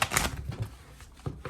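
Tarot cards are shuffled by hand, giving quick, irregular papery riffling bursts, close and quiet.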